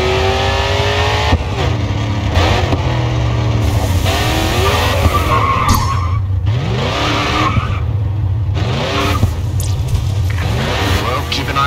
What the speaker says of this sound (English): Next corner, let's see a drift.